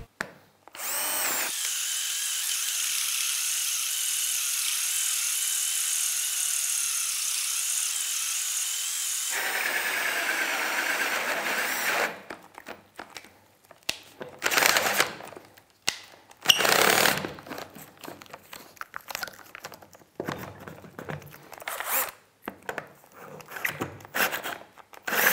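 A cordless power drill whines steadily for about twelve seconds while boring through wood with a 30 mm Forstner bit, then stops, followed by scattered knocks, clatter and handling noises.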